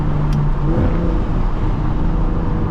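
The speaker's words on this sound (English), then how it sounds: "Man, this car sounds great." Straight-piped single-turbo BMW 335is revving, a loud close engine drone with a rising surge early on, steady and continuous with no talk.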